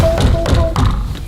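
Three sharp knocks land on a wooden door painted to look like metal, giving close, dull taps spaced about a quarter second apart over a steady low background hum.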